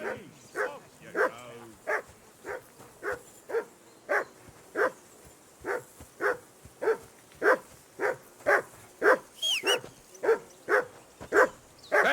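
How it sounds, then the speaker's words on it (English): A dog in the video game Kingdom Come: Deliverance II barks in a steady, evenly spaced series of about twenty sharp, loud barks, with faint whimpering between them. "Call that dog to heel!"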